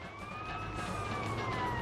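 Police car siren in the video game GTA Vice City Stories holds a long, smooth wailing tone over a steady rumble of game traffic noise, moderately loud and without talk.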